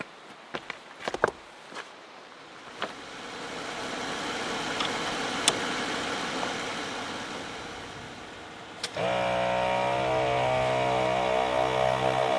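A Jeep engine starts after a few clicks and thumps nearby, then settles into a steady, fairly loud idle with a low mechanical hum.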